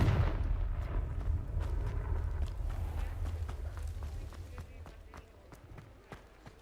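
A Confringo spell blast in Hogwarts Legacy opens with a loud, booming burst that rumbles and decays over several seconds, dotted with sharp clicks and light steps as it fades.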